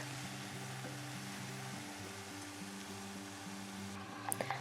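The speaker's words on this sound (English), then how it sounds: "So just let it sizzle for a few minutes" Meat sizzling in a pan, a soft, steady frying hiss with a faint background hum, quiet and even, with a few small clicks near the end.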